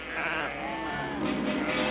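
Sheep bleat in a continuous, wavering cry on a western ranch, loud and close, with a dense mix of other sounds layered underneath.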